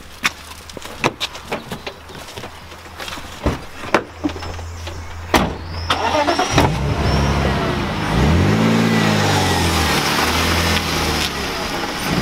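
A car in a video game: scattered clicks and door-like knocks, then the engine starts and revs up into a loud, rising drive that holds steady to the end.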